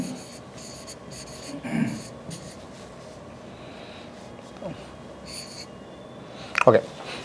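A pen writes on paper in soft scratching strokes under a low background hiss, close and quiet, with a few brief louder bumps and scrapes.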